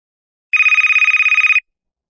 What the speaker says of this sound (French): le Père Noël prit son téléphone magique et appela ses amis